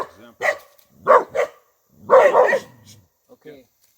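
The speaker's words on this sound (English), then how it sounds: "I believe the dogs just ring the alarm" Dogs bark at a rural home in Teresópolis, several sharp barks in separate bursts, mixed in with people talking nearby.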